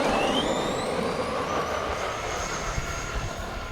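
Arrma Granite 4x4 3S brushless RC truck running at full throttle, a steady high-pitched motor whine with rising and falling tonal sweeps over broadband rumble, loud and continuous throughout.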